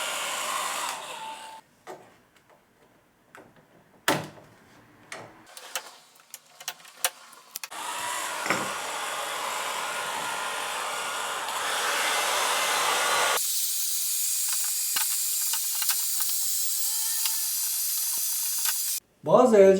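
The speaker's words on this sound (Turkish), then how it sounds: "Bir tane fön makinesi kullanarak ledleri ısıtıp sökebilirsiniz." A hair dryer blows on the LED strips of an LG TV to heat and loosen them, a loud steady whooshing drone that starts partway through after scattered clicks and handling noises and runs on, cutting off briefly near the end.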